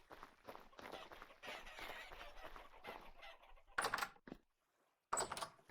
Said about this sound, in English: The chickens are doing well.